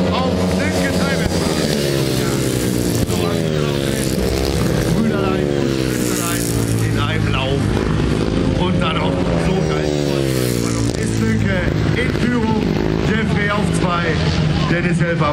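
Long-track motorcycles race at Top-Life Race Days in Berghaupte, engines wailing and rising and falling in pitch as riders pass, loud and continuous beneath a German commentator's voice.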